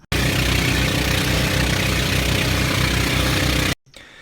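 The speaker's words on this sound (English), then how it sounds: "I have cotton in my ear because the motor is so loud on this ship" A boat's motor runs loud and close with a heavy, rumbling drone and a steady throbbing pulse, then cuts off abruptly near the end.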